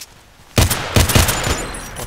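Gunfire from an SKS carbine in the video game Contract Wars rings out in a rapid string of loud, sharp shots, following a short quiet start.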